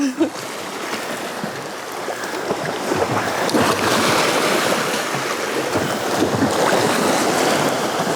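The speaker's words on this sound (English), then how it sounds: "You can like hear the water splashing against the rocks." Water splashes and washes against rocks outdoors, a steady rushing wash with wind noise that swells louder midway and stays strong, with no talking.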